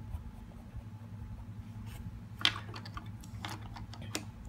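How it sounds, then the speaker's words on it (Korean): Colored pencil scratching across paper while drawing eyebrows, faint close scratchy strokes in short irregular bursts over a low steady hum. "그래서 이렇게 눈썹을 그려줍니다"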